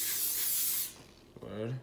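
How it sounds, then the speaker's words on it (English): Cooking spray hisses onto a pan in one steady burst lasting just under a second and heard up close, followed by a short spoken remark. "Pan spray for me."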